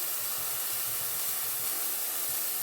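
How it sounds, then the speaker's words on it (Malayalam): Vegetables sautéing for barley pulao in a pan, a steady loud sizzle and hiss filling the whole stretch without a break, close up, with no voices over it. "ഇനി നമുക്ക് പച്ചക്കറികളെല്ലാം ഇതിനകത്തിട്ടൊന്ന് വാട്ടിയെടുക്കാം."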